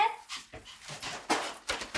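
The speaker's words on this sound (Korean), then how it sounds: "함께 지내는 강아지도 반깁니다." A puppy whimpers and pants in greeting at a homecoming, with soft, breathy whines coming in short bursts. The sounds are close but faint.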